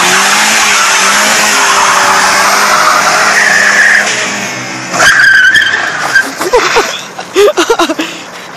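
A car does a hard burnout, tires skidding and squealing loudly with the engine roaring, the rear brakes burning; the sound is continuous and close, then breaks into several sharp revving bursts toward the end.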